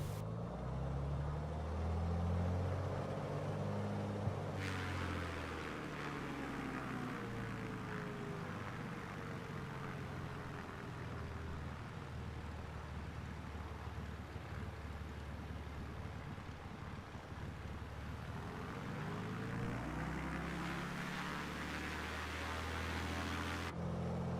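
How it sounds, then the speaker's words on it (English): Beechcraft Bonanza propeller airplane taking off: a steady, loud engine drone swells as the throttle comes up, holding a strong rumbling roar with a whirring propeller tone for a long stretch, then easing slightly near the end. "This is a Beechcraft Bonanza that we're flying"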